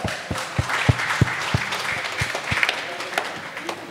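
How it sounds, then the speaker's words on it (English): Audience applause at a school Teacher's Day celebration, heard as a broad wash of clapping with several sharp, distinct claps standing out near the front, steady for a few seconds at moderate loudness. "Let us welcome them with a big round of applause"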